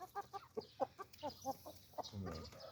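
Chickens on a farmyard give a quick series of close clucks, and a harsher rooster-like squawk ends the sequence.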